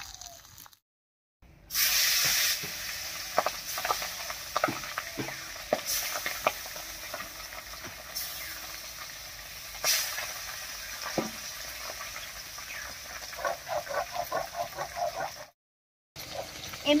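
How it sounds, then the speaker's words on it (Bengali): Pabda fish, coated in turmeric, salt and mustard oil, fry in a pan with a continuous close sizzle. Crackles, pops and spatters run throughout, broken by occasional scrapes and stirring noises. "এমনিতে পাবদা মাছ ভাজার সময় কিন্তু গায়ে তেল ছিটে"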